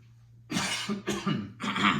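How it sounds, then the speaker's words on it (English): Three harsh coughs in a row, close and loud, each a short burst separated by brief pauses. "I'm going to cough here."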